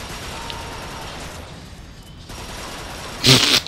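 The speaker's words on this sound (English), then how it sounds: "RPGs and stuff and whatnot. Shooting all types of shit down there." Gunfire in the Transformers Fall of Cybertron video game crackles as a dense rattling fusillade, with a loud sharp burst of shots near the end over steady game noise.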